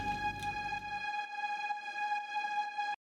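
A sustained synth string tone in an FL Studio Afro House track holds a steady bright pitch for about three seconds, a low rumble fading out after the first second, then cuts off.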